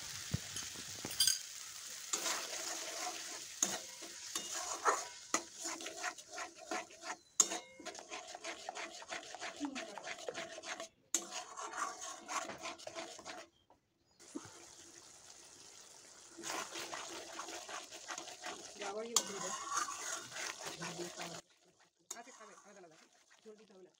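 Spice paste and whisked sour yogurt are stirred and fried in a pan for a Bengali doi katla fish curry, giving a steady sizzle and scraping that break off in short pauses, with a voice at times.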